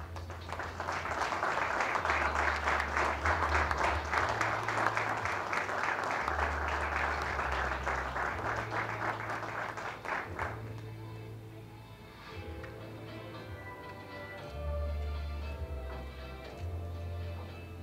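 An audience applauds at a ceremony proclaiming new municipal authorities, a dense crowd clapping for about ten seconds before thinning into scattered claps, with a low electrical hum underneath.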